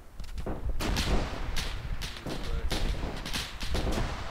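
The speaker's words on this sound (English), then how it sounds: "They are throwing grenades to us." Arma 3 World War One battle with grenade explosions and gunfire, dense bursts of shots and blasts crackling continuously, with voices faintly under the din.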